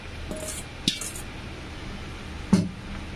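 Chowmein noodles are tossed with vegetables and chicken in a pan, with faint background hiss and a couple of sharp metallic clinks of utensil against pan.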